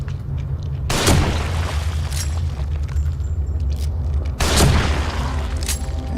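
Two heavy sniper rifle shots in The Evil Within, each a loud booming crack with a short rumbling tail, spaced a few seconds apart over a steady low ambient drone, with no talking.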